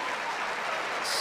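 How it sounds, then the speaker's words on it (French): Canadian audience clapping in congratulation at the France versus Morocco pétanque world championship final in 2018, a brief, even patter of applause that swells slightly at the end. "Ce sont déjà des applaudissements de félicitations aux vaincus de la part du public canadien"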